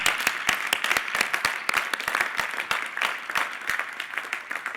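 A church congregation applauds during worship, a dense patter of many hands clapping with a few sharp claps standing out, moderately loud and steady.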